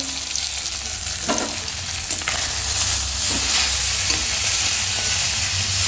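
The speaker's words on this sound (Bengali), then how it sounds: "এইদিকে মাছ ভাজা চলছে।" Fish frying in a small amount of oil, giving a steady, close sizzle with occasional stirring and scraping sounds and no voices.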